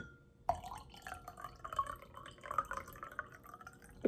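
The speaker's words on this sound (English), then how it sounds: "Now you're going to take your colored water and pour it into the cup with the oil." Colored water poured from a glass into a cup holding oil, a soft trickling and dripping liquid sound that starts abruptly after a brief silence and continues close and fairly quiet.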